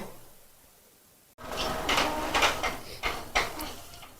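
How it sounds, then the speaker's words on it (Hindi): An Epson L805 printer printing a page for sublimation work turns on abruptly after a quiet pause, then whirs and clatters mechanically up close, with rhythmic sliding pulses as the paper feeds. "तो यहाँ पे प्रिंटर ने कमांड ले ली है और अभी पेज प्रिंट हो रहा है"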